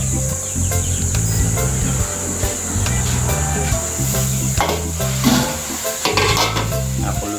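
A pot of chopsuey broth bubbles and simmers steadily on the stove, a continuous close hiss and sizzle with faint gurgles and occasional utensil clinks, no talking.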